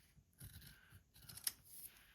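Large scissors make quiet, crisp snips through strips of washi paper, with a few light cuts close by in an otherwise hushed room.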